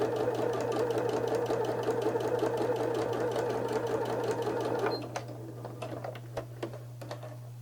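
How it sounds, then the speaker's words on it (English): A sewing machine runs steadily for about five seconds, top stitching the double hem of a pillow cover with a fast, even whir and tick, then stops, leaving light clicks and handling noises. "top stitch along the upper edge of the inside double hem"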